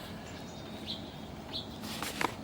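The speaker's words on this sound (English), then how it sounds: "there's my scenery, birds everywhere" Birds chirping outdoors in a wooded backyard with a feeder, a few short, faint tweets scattered over a steady background hiss, with a slightly louder call near the end.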